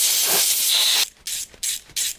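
Hand ratchet or torque wrench on a banjo bolt in a Land Rover Discovery 4 SDV6 engine assembly. A loud hissing burst comes first, then four close, rapid clicking bursts in quick succession.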